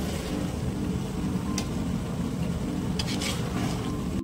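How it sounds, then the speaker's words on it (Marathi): Kolhapuri masale bhat rice being stirred in a cooking pot, a continuous scraping and shuffling with a brief sizzle-like hiss under it, close and steady throughout. "हा भात असा हलवून घेऊया."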